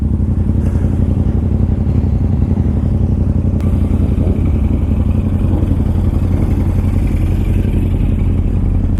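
Several dirt bikes, among them a Suzuki DRZ, idle and rev together as a group, a loud, steady, close engine drone with clattering rattle throughout and no talk.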